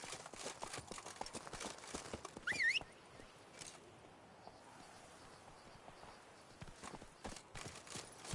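Roach the horse gallops in The Witcher 3, a run of quick hoof clip-clops at moderate distance set against a steady ambient bed, with the hooves fading in the middle and picking up again toward the end.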